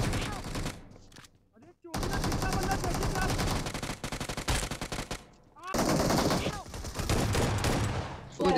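Rapid bursts of automatic machine gun fire in the mobile battle royale game Battlegrounds Mobile India, loud and close, repeating in long volleys with brief gaps and some overlapping shouted voices.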